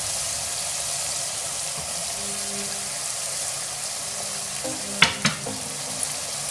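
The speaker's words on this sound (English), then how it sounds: "So just gonna mix it everything again properly" Vegetable lamb curry with garam masala fries and sizzles in a pan as it is stirred, a steady close hiss broken by a few sharp utensil knocks toward the end.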